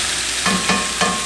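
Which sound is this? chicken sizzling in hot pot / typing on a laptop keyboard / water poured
chicken sizzling in hot pot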